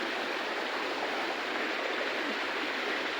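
Steady river water flows in a close, continuous broadband rush with no breaks, and nobody speaks over it.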